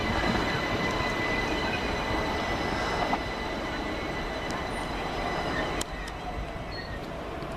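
Train pulling into a British railway station, a continuous loud rumble and rolling roar with faint high squeals from the wheels, close by and without speech.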